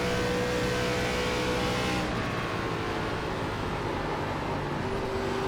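Continuous loud engine drone of an ARCA Menards Series race car in the iRacing game at Pocono, a steady roar with a shift in pitch midway, no talking.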